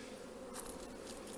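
Honeybees buzzing around a hive nucleus during queen cell introductions, a soft, steady hum with a brief louder flurry of nearby wingbeats partway through.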